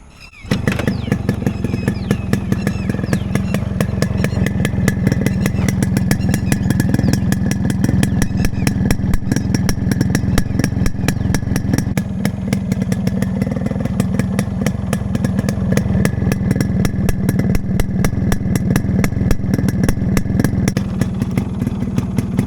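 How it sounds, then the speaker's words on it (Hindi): A Yamaha RX100 motorcycle engine idles steadily and loudly for the whole stretch, a rapid even two-stroke putter with a rattling clatter and no voices. "Before living I just start the bike."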